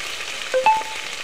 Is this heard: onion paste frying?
yes